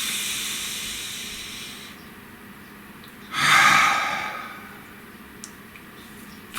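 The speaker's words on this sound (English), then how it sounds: "Take a nice deep breath." A single deep breath in a quiet room during a calm tarot card reading: one soft, airy inhale and release that swells for about a second and then fades, with no talking.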